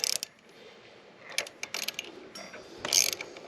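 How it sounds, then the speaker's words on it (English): Allen bolts undone with a ratcheting tool on the front wheel of an electric motorbike, a few bursts of clicking ratchet and mechanical rattling, close and without talk. "You want to undo these Allen bolts in the front right here."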